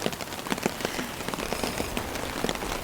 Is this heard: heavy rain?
yes